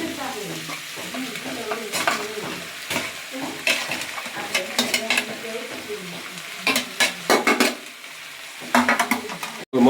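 Flattened rice (poha) with potatoes stirred and frying in a pan, with repeated scraping clinks of a spoon against metal over a soft sizzle, in irregular bursts of stirring.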